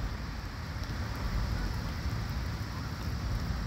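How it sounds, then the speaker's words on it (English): Steady rain hisses continuously as a dense, even wash of noise, with a low rumble underneath and no voices. "Rain."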